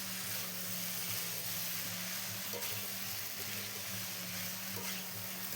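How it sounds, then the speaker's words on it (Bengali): Potatoes fry with spices in a pan, producing a steady, loud, close sizzle over a low hum, with no talking throughout. "আমি মশলার সঙ্গে দিয়ে আলুগুলোকে ভালো করে কষিয়ে নিচ্ছি"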